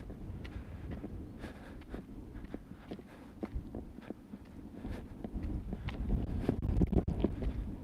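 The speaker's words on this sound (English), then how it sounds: "a little bit windy here." Low rumbling wind buffets an outdoor microphone near muddy water, a steady blustery roar with scattered gusts that grows stronger toward the end, alongside a few footstep-like thumps.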